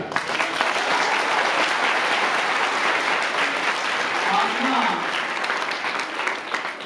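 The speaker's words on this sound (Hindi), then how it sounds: "तालियां।" Audience at a girls' school quiz competition applauding, a continuous dense burst of clapping from many hands in a hall, steady and loud for several seconds with faint voices underneath.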